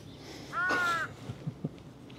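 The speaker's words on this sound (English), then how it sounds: "Apparently crows don't like squirrels." A crow in a park in Saanich, BC gives a single loud, harsh caw while harassing a squirrel, followed by faint rustling and soft knocks in the quiet outdoor background.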